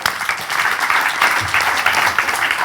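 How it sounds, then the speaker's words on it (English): Event audience applause during a social media strategy Q&A session, steady dense clapping filling the whole stretch, loud and close throughout. "Give a round of applause."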